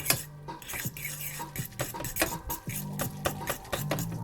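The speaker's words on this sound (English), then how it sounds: "Now we'll stir it up." Instant noodles are stirred in a bowl with a utensil. Light scraping and clinking strokes come in a steady rhythm, close and fairly quiet, over a faint background hum.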